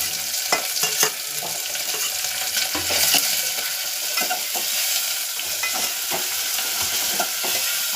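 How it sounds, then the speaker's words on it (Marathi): Tomato and garlic-ginger paste fry in hot oil with a steady bright sizzle, while a spoon repeatedly scrapes and knocks against the pan in irregular stirring strokes. "आता हे छानपैकी आपल्याला तेलामध्ये तेल सुटेपर्यंत भाजून घ्यायचं आहे."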